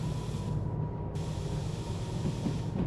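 A train locomotive in the Derail Valley video game rumbles along at speed with a steady low drone and broadband hiss, a continuous mechanical roar with no talking.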